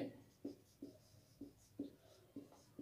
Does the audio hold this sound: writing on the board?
yes